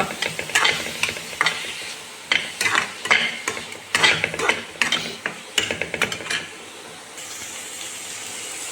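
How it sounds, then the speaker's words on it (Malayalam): Cooked rice is stirred and tossed in a pan for fried rice, a rapid series of loud clattering scrapes and knocks of the spatula over a faint sizzle, easing off into a quieter steady hiss at the end. "അതിലേക്ക് തയ്യാറാക്കി വെച്ച ചോറ് ഇട്ട് നല്ലപോലെ ഇളക്കുക"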